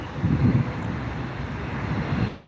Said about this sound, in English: Bombardier Challenger 350.